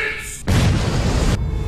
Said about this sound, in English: Explosions? Explosions! And it's nukes.